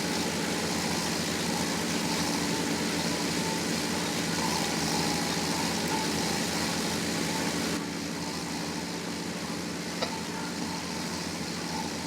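A Renault tractor engine in Farming Simulator 17 drones steadily and evenly throughout, a continuous broadband rumble that drops slightly in level near the end, with no talking.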